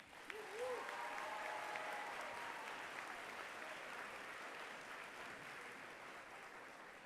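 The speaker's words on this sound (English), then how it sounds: "Let's give these students a round of applause." An audience at a high school graduation ceremony gives a round of applause. The clapping is broad and steady, fades slightly over seven seconds, and one or two faint cheers sound near the start.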